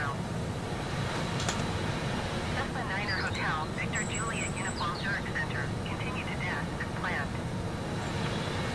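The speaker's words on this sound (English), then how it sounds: "So it is a noisy plane, this one, on the inside." Steady, loud broadband engine roar fills the cabin of a BAE146 airliner in Microsoft Flight Simulator 2020, continuous throughout, with faint higher chirps and voices scattered over it.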